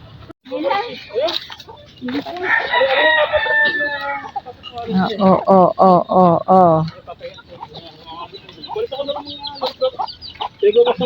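Chickens cluck and a rooster crows several times close by in a farmyard with chicks, while people talk over the birds.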